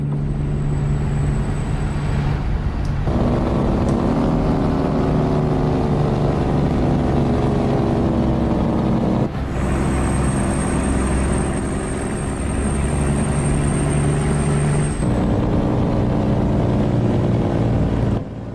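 A loud, steady modded truck engine drone in a truck-driving video game rumbles throughout, with brief shifts in pitch as it revs and changes gear, and no voices.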